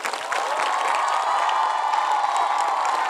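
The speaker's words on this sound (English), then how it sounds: "So, a last clap for the whole family of Navrachna Vidyani." An audience at a school annual concert claps and cheers loudly and continuously, a dense crowd of applause with scattered shouts throughout.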